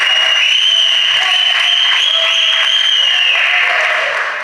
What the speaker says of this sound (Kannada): ಜೋರಾದ ಚಪ್ಪಾಳೆಯ ಮುಖಾಂತರ ತಮ್ಮ ಇರುವಿಕೆಯನ್ನು ತೋರಿಸಬೇಕು